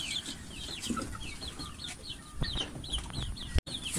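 Several chickens, black Kadaknath and native country hens, chirp and cluck intermittently across a steady background, with a short dropout near the end; the calls are moderately close and fairly continuous.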